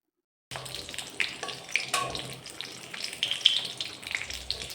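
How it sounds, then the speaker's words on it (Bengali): Banana and other vegetables frying in a pan, giving a steady close sizzle with faint stirring scrapes and no talk. "কলার সঙ্গে সঙ্গে অন্যান্য সবজিগুলোও ভেজে নিচ্ছি।"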